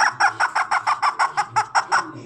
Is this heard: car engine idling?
no